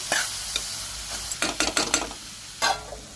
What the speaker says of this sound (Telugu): 2 స్పూన్ల కారం, ఇది మంచిగా కలుపుకొని